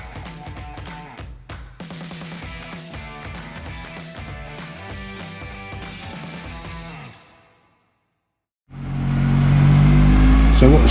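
A pickup truck warms up on a rolling road before a power run. Music plays first, then a short silence, then a loud, deep engine rumble starts abruptly and holds steady close by.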